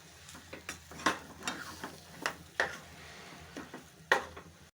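A spoon stirs and scrapes mashed potato filling for ulta vada pav around a pan in quiet, rhythmic strokes, with soft clinks and faint sizzling between them and no talking.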